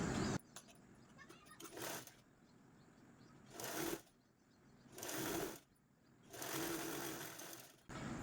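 Domestic sewing machine stitching a blouse's cross-strip bottom edge, running in four bursts of fast needle chatter separated by short pauses, close and clear.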